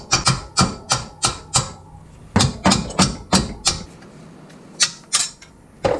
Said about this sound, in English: now I can hammer out a piece.